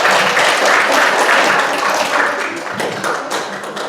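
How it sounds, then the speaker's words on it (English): Audience at a church camp gives a round of applause, loud dense clapping close by that gradually thins and softens toward the end, with a few sharper individual claps standing out. "Let's give her a round of applause."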